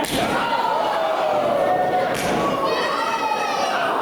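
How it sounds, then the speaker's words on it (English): Thuds of strikes and knife-edge chops traded back and forth in a CSW wrestling match, dull impacts scattered through a steady roar of the crowd with children's voices in the audience. "You can just hear the thuds of shots."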